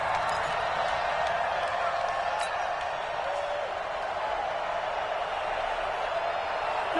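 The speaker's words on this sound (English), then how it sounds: "The crowd here in the Dome making things difficult." Steady crowd roar filling an indoor dome stadium in a PS4 American football video game, a continuous even wash of cheering noise with no distinct claps.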